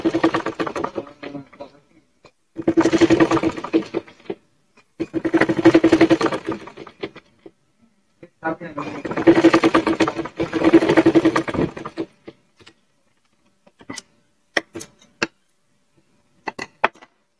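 A sewing machine double-stitches a bolster pillow cover in four loud bursts of rapid mechanical whirring, each lasting one to two seconds with short pauses between, followed by scattered sharp clicks.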